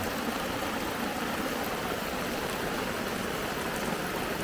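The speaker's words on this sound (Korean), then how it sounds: "갑자기 비가 지금 너무 와요" Heavy rain pouring down at a car-camping site beside a Discovery 4, a dense unbroken roar of falling water, loud and steady throughout with no voices.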